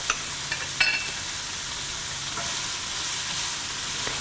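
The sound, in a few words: onions with salt being stirred and sautéed in a pan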